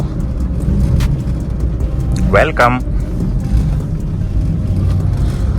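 Vehicles pass on a mountain road near Bilaspur in Himachal Pradesh, with a steady engine rumble throughout and a short horn-like tone midway, while someone speaks briefly.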